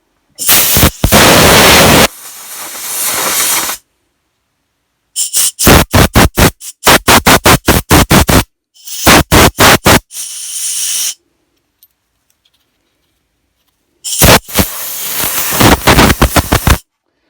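Compressed air blows out a carburetor from a Honda HR173 lawn mower in loud hissing blasts: one long burst, a rapid string of short puffs, then another long blast after a silent gap.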